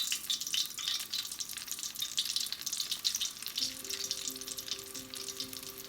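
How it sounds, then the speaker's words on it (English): Beer-battered onion rings hiss and crackle steadily in a deep fryer of hot oil at 350 degrees, a continuous soft sizzle with a faint electrical hum in the background. "now we're going to drop them into the fryer"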